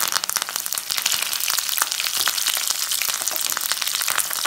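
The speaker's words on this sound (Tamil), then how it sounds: "நல்ல பொரியட்டல" Whole spices, green chillies and curry leaves fry in hot oil, a dense, steady crackling sizzle with sharp pops throughout, close and loud with no talking.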